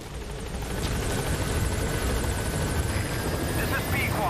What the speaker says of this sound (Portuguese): Vamos chamar um helicóptero.